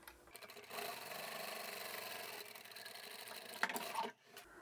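Sewing machine stitching a seam on a tapered toiletry bag lining with a 1 cm seam allowance, running steadily and fairly close for several seconds before a brief stop and restart.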